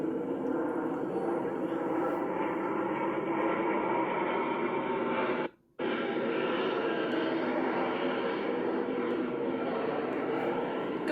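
Super Hornet fighter jets fly at the San Francisco Fleet Week air show, a continuous loud engine roar filling the whole stretch with a brief dropout midway, heard through a broadcast feed.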